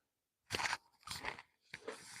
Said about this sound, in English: Pardon my crunching.